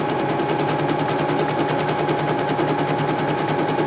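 A Brother PC 6000 sewing machine sewing an elongated stitch through multiple layers, loud steady rapid mechanical chatter of the needle running continuously without pause, close up.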